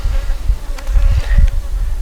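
Honey bees from a housed swarm humming busily around their hive, a dense continuous buzz nearby with individual bees passing close to the microphone and no talking.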